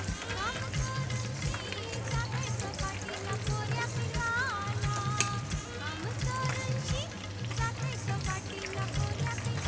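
Yellow fin fish pieces deep fry in oil over a high gas flame, a steady crackling sizzle running under a person talking.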